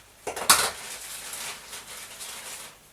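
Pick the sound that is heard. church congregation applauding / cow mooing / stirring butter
stirring butter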